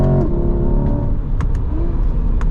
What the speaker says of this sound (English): I'll let you listen to the engine for a little bit.